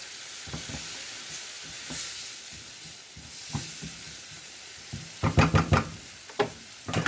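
Eggplant bharta with coriander sizzles in a pan, a steady frying hiss broken by scattered utensil knocks and stirring taps, with a louder cluster of clatters toward the end.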